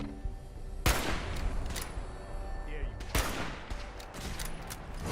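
Gunfire from Mr. Gutsy combat robots in the Fallout video game, several of them fighting, comes as loud bursts of repeated shots. Two strong volleys stand out over dense continuous game noise and a crackling background.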